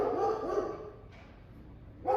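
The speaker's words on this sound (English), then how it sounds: "every time I fire up the camera, there's a dog barking" A dog barks a few times at a distance, muffled, with a pause between bursts.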